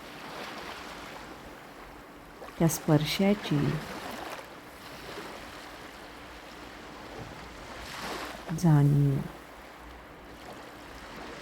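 Ocean waves lapping at the sea, a faint, steady wash of surf low in the background, with a calm voice speaking softly over it in two short bursts.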